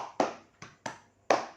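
A classroom of children claps a concentration pattern: four sharp, distinct hand claps in an uneven rhythm, close and loud with brief decays, no talking.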